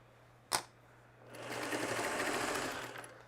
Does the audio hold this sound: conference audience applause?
no